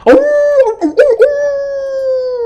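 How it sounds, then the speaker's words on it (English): A wolf howls in a long, steady, tonal cry, loud and close, with a wavering start before it settles into a sustained held note. "you guys can hear like wolf howls."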